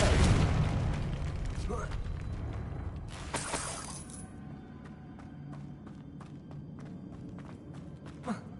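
A Confringo explosive spell blast in Hogwarts Legacy, a loud crashing burst at the start that decays into rumble, followed by a second shattering impact and scattered lighter clicks and thuds.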